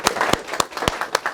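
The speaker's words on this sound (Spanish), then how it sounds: "pedir otro aplauso al profesor Alberto." Audience applause for a professor at an academic talk, heard as a few sharp, separate claps in an uneven rhythm, close and fairly loud.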